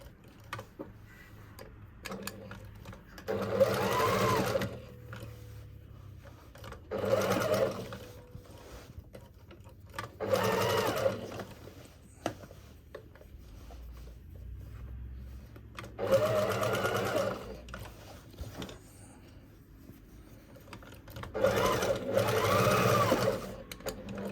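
A sewing machine stitches a repair in a jeans pocket lining, running in several short rapid bursts separated by quiet pauses, close and clear.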